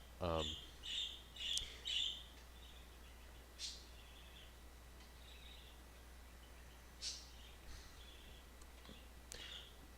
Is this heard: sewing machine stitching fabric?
no